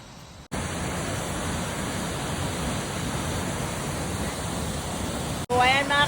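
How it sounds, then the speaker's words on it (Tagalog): Magkawas Falls running strong after rain, a steady, loud, close rushing roar of water that holds without change. It cuts out briefly near the end, and a faint voice can be heard at the very end. "naririnig na natin yung lagubo ng tubig ng Magawas Pool. So, mukhang malakas ang agos ngayon dahil inulan."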